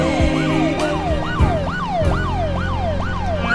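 An ambulance siren wails in a fast repeating up-and-down cycle, loud and close, over a low rumble of traffic.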